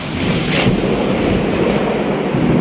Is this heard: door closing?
no